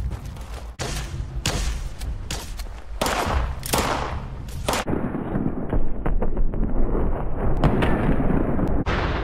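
Gunfire and explosions in the Fallout 76 video game, plasma pistol among them: loud, dense bursts of shots and heavy blasts pile up throughout and merge into a continuous roar of combat near the end.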